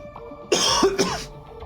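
Two quick, harsh coughs close up, one right after the other, in an otherwise quiet moment.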